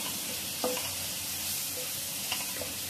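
Masala of roasted cumin and garam masala sizzling in oil while being sautéed on a slow gas flame, a steady close frying hiss broken by a few soft stirring scrapes, with no talking.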